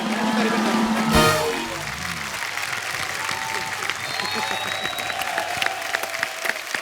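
Studio audience applause for Govinda on a comedy talk show, a loud burst with a brief musical sting at first, then sustained clapping that carries on beneath a talking voice.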